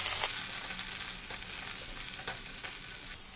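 Medium-size sliced onion sautéing in hot oil for paneer afgani, a soft steady sizzle with occasional scrapes and stirs of a spatula in the pan, close and fairly quiet.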